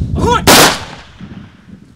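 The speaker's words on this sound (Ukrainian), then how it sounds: "пролунали постріли у повітря." Honorary shots fired into the air at a Ukrainian military funeral: a single loud, close rifle crack follows a brief voice, then a long echoing decay into quiet.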